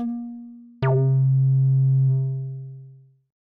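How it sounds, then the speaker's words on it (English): A WMD/SSF Multi Mode Filter on a synthesizer, a held tone that jumps to a new pitch with a bright attack, then rings as a strong low note with harmonics and slowly fades out. "So you can hear that the character of the filters is considerably different than just whether or not it's 4-pole or 2-pole."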